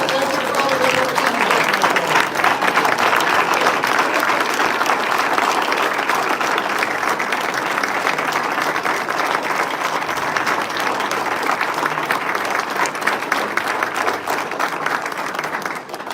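Sustained applause from an audience at an alumni homecoming open house, honoring Steve Grafton with a standing ovation; dense, steady clapping fills the room at even loudness from start to finish.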